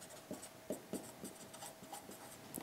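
Chalk or marker strokes on a classroom board as a lesson method is written out, a run of short scratchy rubs in irregular rhythm, fairly faint and close, with no talking.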